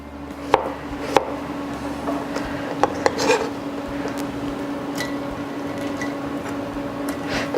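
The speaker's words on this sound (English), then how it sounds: "I'm just going to slice it really thinly." A knife thinly slicing a washed cucumber on a cutting board: several sharp, distinct chops spaced irregularly near the start, then softer slicing under a steady background hum.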